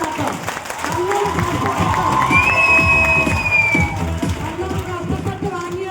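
Audience at a business experience-sharing programme in Palakkad claps and cheers steadily, with excited voices and shouts mixed into the crowd noise throughout.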